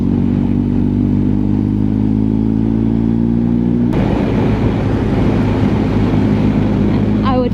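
A motorcycle rides through a rock tunnel on Switzerland's Susten Pass, a loud, steady engine drone with a booming enclosed echo and a sharp change in tone midway, with a person speaking over it.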